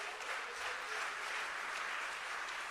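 A church congregation applauds in a steady, moderately distant wash of clapping that lasts a few seconds without a break.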